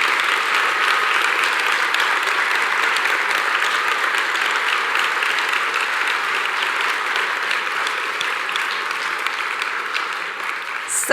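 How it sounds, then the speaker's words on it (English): Audience applause fills a large room, dense and steady clapping from many people, loud and sustained throughout before tapering slightly at the end. "Please stand up and let us give you applause for what you're doing."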